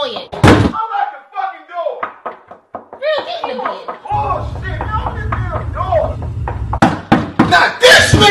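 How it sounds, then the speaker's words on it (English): Sharp knocking on a door, loud and close, with a burst of raps near the start and another flurry near the end, while people talk between and over them. "Why are you knocking on the door?"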